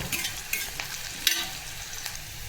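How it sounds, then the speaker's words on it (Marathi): Chopped onion sautés in a pan for a Marathwada-style spicy brinjal dish, making a quiet, even sizzle with light intermittent clicks and scrapes from stirring, and no one speaking. "याला पण छान परतून घ्यायचं आहे कांद्याला"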